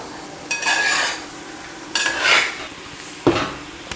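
A spoon stirs a garam masala mixture in a cooking pan, Kerala style. Three separate bursts of scraping and clinking come close by, with quiet pauses between them and a faint sizzle underneath.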